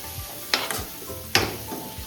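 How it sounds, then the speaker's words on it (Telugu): Chili powder being stirred into a fish curry (chapala pulusu) in a pan, with two distinct scraping strokes against the pan over a faint background sizzle. "కారం వేసిన తర్వాత ఇలా కలపండి"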